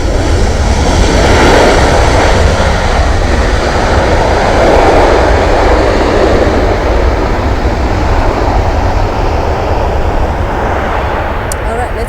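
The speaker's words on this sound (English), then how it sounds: "Another Delta just landing." An airliner lands on runway 24 left at LAX, giving a loud, broad roar of engines and rushing air that swells and fades across the stretch, with nearby voices at times.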